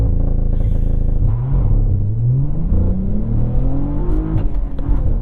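A 2022 Cadillac CT4-V Blackwing doing a launch-control start, its engine roaring loud and close as the pitch climbs steadily through a hard acceleration and then changes near the end.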